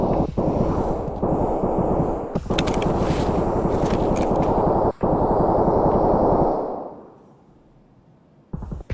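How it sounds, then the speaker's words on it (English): Sustained, loud automatic gunfire from an enemy's weapon in Escape From Tarkov, a dense roaring burst with a few brief gaps for about six seconds, then dropping off to near silence before a short final crack. "this guy's gun is so loud"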